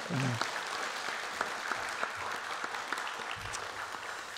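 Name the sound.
church congregation applauding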